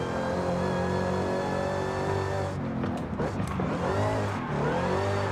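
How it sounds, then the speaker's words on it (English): A deep V8 engine in Forza Horizon 5 rumbles steadily, with revs rising and falling and short crackling bursts near the middle, loud and close. "The V8 rumble, bro."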